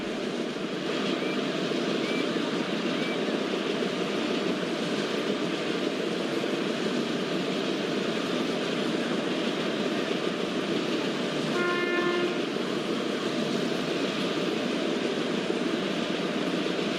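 A WAG7 electric locomotive in a railway simulation game hauls a train with a steady, continuous rumble of running gear, and a short horn blast sounds partway through.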